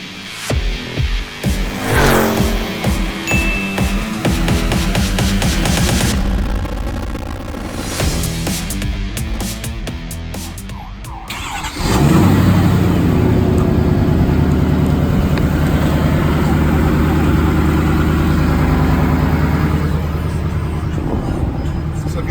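An 800-horsepower Ford F-650 truck engine roars up close, with pulsing revs that ease off and then surge into a loud, sustained, heavy drone for the last ten seconds.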